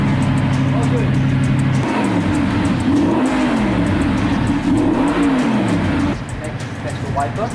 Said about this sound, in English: We should be able to fire up the car anytime now.